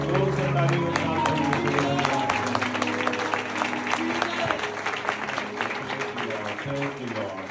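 Congregation at a church worship service in Dubai clapping loudly in steady rhythm along with singing, close and continuous throughout.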